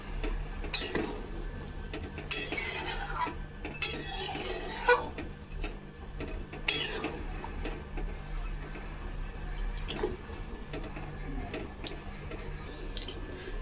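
Mung dal thinned with added water and stirred in a pot: a spoon scrapes and knocks against the pot in scattered clinks and taps over a steady low background hum.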